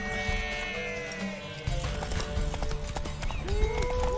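Horse hooves clip-clop steadily in The Witcher 3 video game, a moderate rhythmic trot with a brief whinny and soft background voices.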